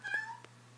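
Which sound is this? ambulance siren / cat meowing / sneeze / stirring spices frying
cat meowing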